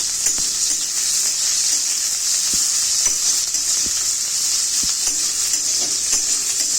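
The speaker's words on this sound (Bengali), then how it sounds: "পেঁয়াজটা ভালো করে লাল লাল করে ভেজে নিলাম" Chopped onions and garlic fry in oil until browned, giving a constant bright sizzle close up, with faint taps and scrapes of a spoon now and then.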